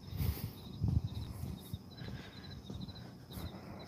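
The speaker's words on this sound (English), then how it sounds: "you can hear the crickets" Crickets chirp outdoors on a quiet night, thin rapid trills repeating faintly in the distance over low handling rumble and soft bumps.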